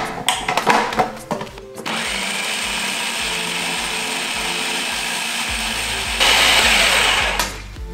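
A blender running steadily through a thick raw vegan nacho cheese sauce made with garlic, onion powder and water, loud and continuous after a few clunky starts, with a sharper, higher whine near the end as the blend loosens.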